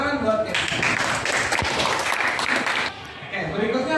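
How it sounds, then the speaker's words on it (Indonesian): Classroom clapping for a student breaks out after a short spoken remark, a brief burst of applause lasting a couple of seconds before talk resumes. "Ya, tepuk tangan buatnya."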